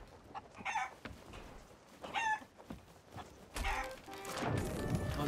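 A chicken in a video game clucks in short bursts, several quick clucks over a few seconds followed by a louder, longer squawk, fairly close and clear with game background noise behind it.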